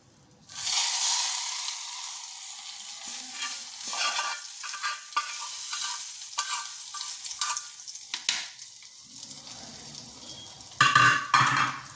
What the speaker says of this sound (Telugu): పోపు వేసుకుంటుంటండి.